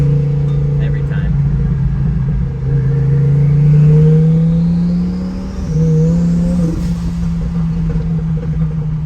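A Lamborghini engine rumbles loud and close, its note rising with revs and dropping at each gear change, with someone talking over the drone.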